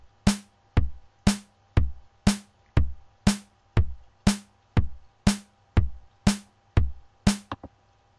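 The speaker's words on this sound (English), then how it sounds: "So your drum pattern should sound like this." A steady looping drum pattern programmed in Reason's sequencer, evenly spaced punchy hits alternating kick and snare-like strikes in a regular rhythm, played alone and fairly loud.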